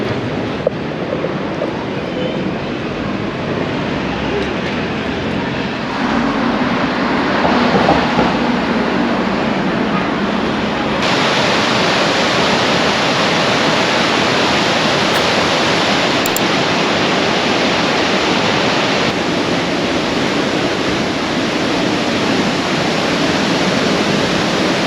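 Steady broadband rush of river water flowing through Thun, Switzerland, loud and continuous for the whole stretch with no voices, its level shifting slightly partway through.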